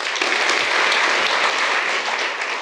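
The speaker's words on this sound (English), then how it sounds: "Another round of applause" An audience at a product design and management livestream event breaks into a loud, steady round of applause. Many hands clap densely and evenly throughout, with no talk over it.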